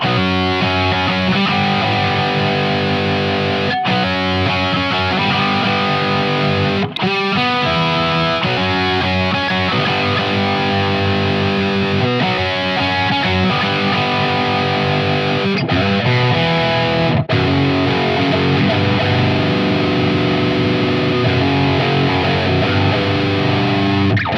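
A heavily distorted electric guitar, a Jerry Cantrell Rampage replica, plays chunky riffs continuously, loud and saturated, with a couple of brief stops between phrases.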